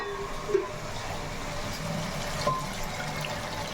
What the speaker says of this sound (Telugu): ఇప్పుడైతే మనం వాటర్ కూడా వేసేసుకుందాము